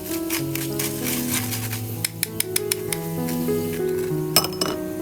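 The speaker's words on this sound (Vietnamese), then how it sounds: "Khi mà tỏi bắt đầu hoe hoe vàng thì đổ ra ngoài nhé, không là bị cháy đấy" Garlic frying in oil in a pan until golden, a steady sizzle broken by clinks of a utensil against the pan and stirring sounds, close and moderately loud.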